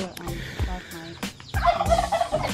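Fowl in a farm chicken area in the Philippines, with loud repeated turkey-like gobbles and bird calls in bursts, close by and without talk.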